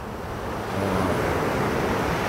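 Ocean waves wash steadily at sea on the way toward Scarborough, a broad, even rushing hiss that grows slightly louder partway through and holds without pause.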